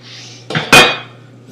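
Two metal wok stand parts set down on a gas grill fitted with an accessory ring, two quick loud clanks in succession, the second louder and ringing briefly, with no talking.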